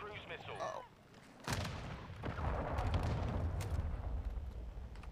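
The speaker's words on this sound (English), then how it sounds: "I'm spawning on the mortar strike." Mortar strike explosions go off in Call of Duty: Modern Warfare II as a sudden heavy boom and a second blast, then a rumbling roar that continues, following a short burst of voice.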